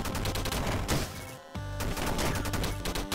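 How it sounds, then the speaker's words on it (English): Rapid gun fire from the video game Downwell, a dense, continuous stream of loud shots with one brief break partway through. "And your gun's the only thing that slows you down."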